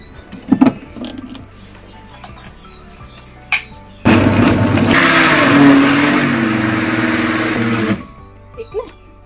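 A kitchen mixer grinder grinds chillies, cumin, coriander powder and cashews in one loud, whirring burst lasting about four seconds, with a few clicks and knocks before and after it.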